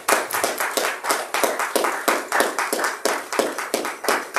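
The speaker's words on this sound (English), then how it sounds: "Give the Lord a hand clap of praise in this place." A church congregation claps in unison during a Sunday morning service, a steady rhythmic run of about twenty loud, close hand claps repeating evenly with no talking over them.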